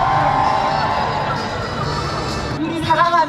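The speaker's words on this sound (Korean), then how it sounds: "환호가 터져 나옵니다." A dense crowd roars and cheers in the night air of Seoul City Hall plaza during a rally of supporters and opponents, a sustained wash of voices with sharper whoops and shouts rising toward the end.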